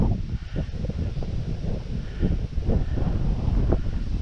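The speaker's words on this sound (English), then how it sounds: "It wasn't meant to be windy, and it is really quite windy, gusts of 30 miles an hour" Strong, gusty wind buffets the microphone on an open riverside walking route, a steady low roar swelling in bursts and strengthening toward the end, with no voices.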